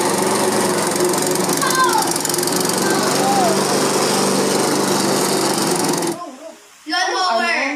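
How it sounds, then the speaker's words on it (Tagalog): A lawn mower engine runs loud and steady for about six seconds, then cuts out; voices follow briefly, as in a guess-the-sound game. "Lawnmower"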